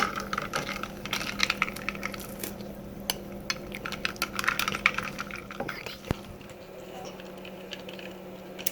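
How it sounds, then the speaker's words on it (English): A spoon stirs homemade strawberry soda in a glass, giving quick, irregular clinks and taps against the glass over a steady low hum, louder early on and fading toward the end. "Stir it up and give it a taste."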